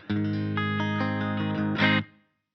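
A sustained electric guitar chord rings through a Line 6 Helix modeling a Roland Jazz Chorus 120 amp with reverb, lightly picked notes repeating within it before it is strummed again and fades out.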